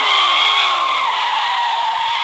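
Car tires skid continuously while drifting in the video game Extreme Car Driving, a loud, sustained screech with a falling engine whine beneath it and no talk.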